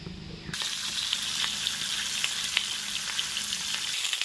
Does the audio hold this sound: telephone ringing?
no